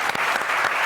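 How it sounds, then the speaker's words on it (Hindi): A television studio audience on an entertainment show bursts into a short, dense round of applause, loud and close, lasting under a second. "मैंने इनके लिए तालियां बजवाई या मेरे लिए तालियां?"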